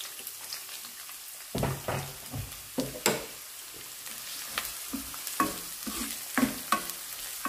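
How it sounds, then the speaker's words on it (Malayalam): Small onions sautéing in coconut oil in a pan for a Valluvanadan curry: a soft crackling sizzle with bursts of stirring scrapes that start after a quiet opening, close by and without speech. "എന്നിട്ട് ഈ നമ്മുടെ ഈ ചെറിയ ഉള്ളി എനിക്ക് ഇട്ട് കൊടുക്കാം."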